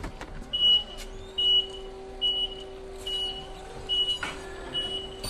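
Reversing beeps from an electric Clark forklift on a work site: evenly spaced high electronic chirps, five or six in a row, over a low steady hum and faint background clatter, with no talking.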